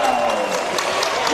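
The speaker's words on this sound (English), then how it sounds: "All of a sudden, the Sunbury crowd are making some noise." Home crowd at a Sunbury men's basketball grand final against McKinnon cheering and clapping, a steady roar of applause with a commentator talking over it.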